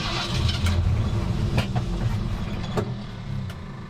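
A 1952 Ford engine cranks and sputters as though out of gas, a loud rumbling churn with a few sharp catches that fades slightly toward the end.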